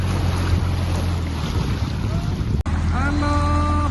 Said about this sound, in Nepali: हाम्रो मोटर बोटमा है